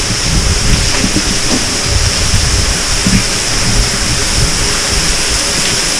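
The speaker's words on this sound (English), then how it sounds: "I don't know if you can see that, but it's like raining." Water drips and showers like rain inside an abandoned train tunnel, a loud, dense, continuous hiss and patter with a deep echoing rumble beneath, steady for the whole stretch with no voices.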